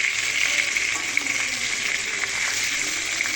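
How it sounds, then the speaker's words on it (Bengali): Rohu fish heads fry in hot oil in a wok, giving a steady, dense sizzle that holds evenly at close range throughout, with faint crackles and no talking. "এবার মাছের মুড়োগুলো সুন্দর করে ভেজে নেব।"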